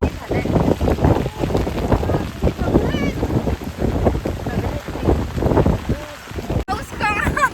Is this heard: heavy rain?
yes